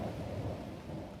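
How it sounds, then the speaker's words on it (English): A single crack of thunder rumbling low and steady through the whole short span, with a faint hiss of rain beneath it and no voices. "A crack of thunder replies."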